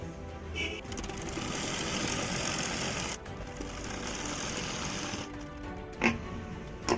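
A sewing machine runs steadily, stitching along the neck strip of a baby top. The whirring motor is loud and close, with one brief pause partway through and a few sharp clicks near the end.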